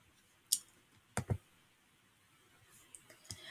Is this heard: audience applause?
no